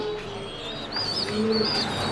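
Fancy pigeons coo softly in low, rolling calls, with a few brighter chirps from other birds over a steady outdoor background.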